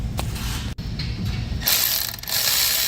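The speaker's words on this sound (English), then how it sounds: "another hand using the air ratchet, tightly, gently clamp" An air ratchet tightens an exhaust clamp at the turbocharger of a 2021 Ford Bronco Sport or 2020 Escape during catalytic converter work, giving short mechanical ratcheting bursts, close and fairly loud, with a brief gap and no talk.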